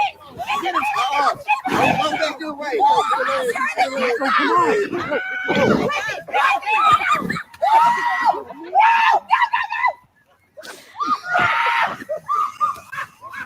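People filming a scene scream loudly and excitedly, mixed with laughter and overlapping voices, in a long, continuous burst close to the recorder with a brief lull near the end.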